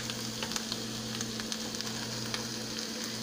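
Onions sautéing in a pan on rising heat, a steady, fairly quiet sizzle with small scattered pops and crackles and the occasional stir, alongside a faint constant hum and no voices.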